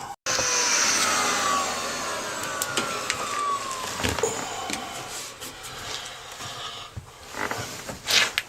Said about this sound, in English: We're going to vacuum this out.